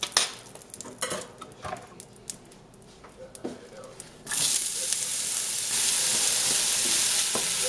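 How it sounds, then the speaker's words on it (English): Onions fry in a pan of butter and oil for omurice, with soft clinks and stirring at first, then a steady loud sizzle that swells and holds. "I'm just gonna add a little bit of butter and some oil to fry the onions in."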